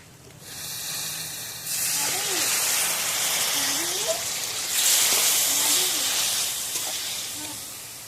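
Water poured into a hot pan holding a hilsa fish head sets off a loud, steady steaming hiss that starts after a second and lasts several seconds, swelling midway, with a voice talking faintly underneath.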